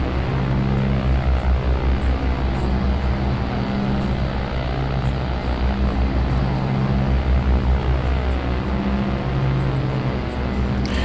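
Twin propeller engines of an OV-10A Bronco in the DCS flight simulator drone loudly and steadily, a dense buzzing hum with a gently pulsing beat and no talking.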